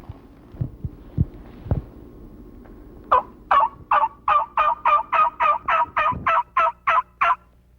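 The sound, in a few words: wild turkey gobbling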